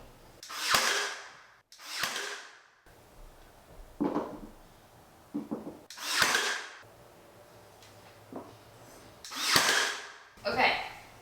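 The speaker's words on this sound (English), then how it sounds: "I could actually nail these up there already, just with one nail, just to kind of hold it in place" Trim molding is nailed up on a wall in a home being renovated: several sharp, loud bangs spaced a second or more apart, with quieter knocks and handling noise between them.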